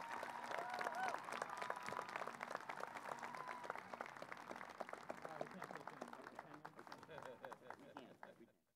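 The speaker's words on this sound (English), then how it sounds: "How about one more round of applause for Dr. Waltz?" A high school commencement audience gives a sustained round of applause for the superintendent, Dr. Waltz: a broad crowd of hands clapping steadily, moderately distant, tapering off and fading out over the last second.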